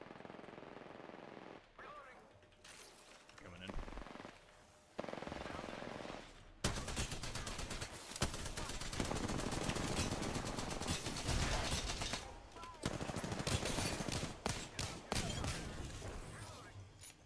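Gunfire fills an Apex Legends match: sharp single shots at first, then dense bursts of rapid automatic fire that stay loud and continuous, with players talking in between.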